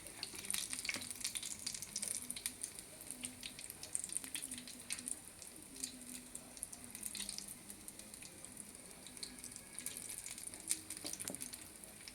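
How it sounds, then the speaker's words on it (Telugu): Potato and egg masala bondas deep-fry in a pan of hot oil at medium flame, giving a continuous faint crackling sizzle with scattered pops throughout, no voices over it. "ఇవన్నీ ఇలా అన్నీ వేయించుకోవాలండి"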